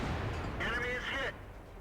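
A heavy tank gun fires once in the World of Tanks game, a short booming report with a brief ringing tail, under a commentator's voice.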